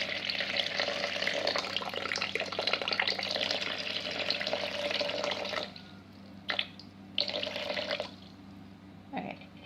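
Water poured into a bowl on a scale for sourdough dough: a steady splashing pour for several seconds, then quieter intermittent trickles and drips, close and moderately soft.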